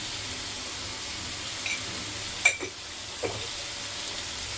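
Pav bhaji masala with tomato and salt stirred in a pan: a low steady sizzle broken by a couple of sharp, close scrapes and knocks of the spoon, no talking.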